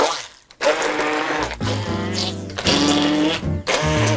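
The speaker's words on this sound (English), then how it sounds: "So now I'm using the immersion blender and it is working much better." An immersion blender purees apples with their peels still on, its motor whining loudly in several bursts of about a second each, separated by short pauses.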